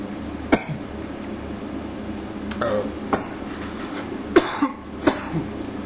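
A person coughs after inhaling dab smoke, several harsh separate coughs scattered over a few seconds with throat clearing between them, close to the microphone in a room with low background hum.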